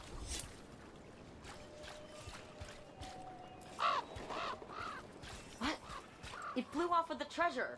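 Several crows caw in the video game Dragon Age: The Veilguard, harsh calls arriving in bursts over a quiet ambient background, growing more frequent toward the end.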